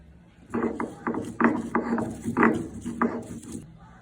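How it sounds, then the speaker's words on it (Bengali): Dried chillies and garlic ground by hand, giving a series of rhythmic scraping, grinding strokes, about one every half second, close and moderately loud. "আমি শুকনো মরিচ আর রসুনটা বেটে নিচ্ছি।"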